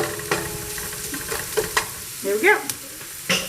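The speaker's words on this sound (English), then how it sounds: "Now this is sizzling." Food sizzles and is stirred in a hot pan while poached salmon and herbed rice are being cooked, giving a soft steady frying hiss with a few scraping clicks close by. Someone speaks briefly.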